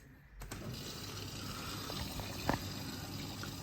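Water spraying and running inside a Miele W487 washing machine on a Cottons 60°C Rapid cycle as it rinses down the door, a steady hiss of flow with a brief splash partway through.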